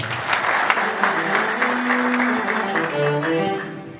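Audience clapping at a wedding program, a dense, steady round of applause from a crowd with a few voices mixed in, lasting the whole moment before fading slightly.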